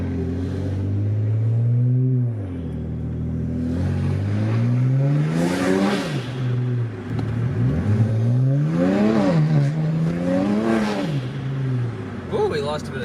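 A loud straight-piped twin-turbo BMW exhaust with ARM downpipes revs repeatedly, rising and falling in pitch in several hard pulls, deep and raspy throughout with no break.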